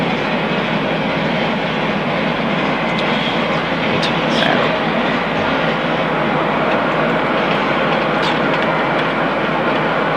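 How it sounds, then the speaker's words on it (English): Jet airliner engines in a flight simulator spooling up to full takeoff power, a steady loud broadband roar with whine that holds throughout, under occasional faint cockpit talk. "Engines will take a second to spool up."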